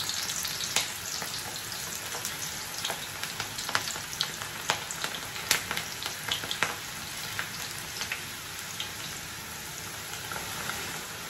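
Onion pakoda fritters, dropped by the handful into hot oil, sizzle with a dense, steady frying hiss broken by scattered sharp pops and crackles, close and continuous with no talking.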